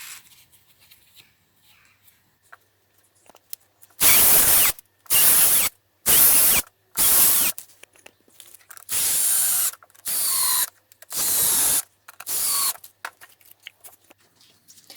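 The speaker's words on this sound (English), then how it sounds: "Then I screwed it to a wooden board that was already on my wall." A power drill driving screws to fix a board onto a wall, in eight loud, even bursts of whirring, about half a second each, separated by short pauses, close and alone.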